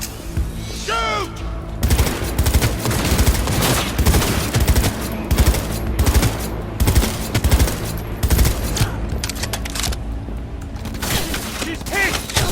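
Dense gunfire fills a Cyberpunk 2077 firefight, with rapid bursts and fusillades of shots running almost nonstop, loud and close. Brief shouted voices cut in over the shooting.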